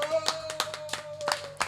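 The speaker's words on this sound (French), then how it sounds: "S'il vous plaît, applaudissons pour cette édition spéciale." Audience clapping during a special edition of a televised show, a handful of separate, fairly sharp claps in an irregular rhythm over a steady low hum.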